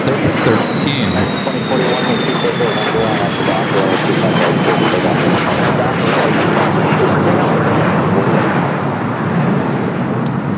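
An American Airlines Boeing 777-200ER jet bound for Miami makes a loud, continuous engine roar close by at Los Angeles airport, with a fading high whine early on and a voice talking over it.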